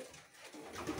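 Pigeons coo softly at a feeding spot on a hot, sunny afternoon, a brief low murmur at close range.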